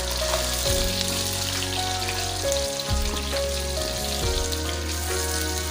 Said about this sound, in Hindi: अब मैं इसमें ऐड करूंगी प्याज अपनी।